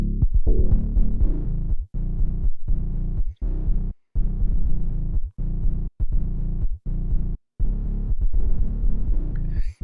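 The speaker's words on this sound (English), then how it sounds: "But if I combine them and throw this slew on, I get that distortion effect happening." Two bass synthesizer sounds merged through a slew distortion effect, giving a dense, throbbing low drone with gritty overtones, chopped into repeated phrases by short gaps, loud and continuous with no voices.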